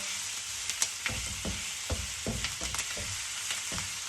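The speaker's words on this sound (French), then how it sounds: "Faut jamais trop cesser de remuer parce que forcément ça crame et comme c'est un plat qui se fait à feu vif" Vegetables and seafood stir-fried over high heat in a wok give a steady loud sizzle, with repeated scraping and tossing clatters of the stirring utensil throughout; no one speaks.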